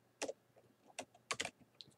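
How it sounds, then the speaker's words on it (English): Keys on a computer keyboard are tapped in a short, quiet burst of a few uneven clicks, close by and alone. "Let's type the phrase"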